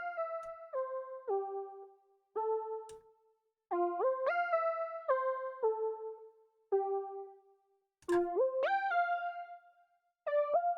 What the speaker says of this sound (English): really what I wanted to do was have some old sounding vintage synths